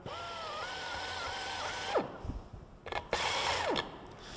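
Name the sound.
hand-held drill drilling a hole on the table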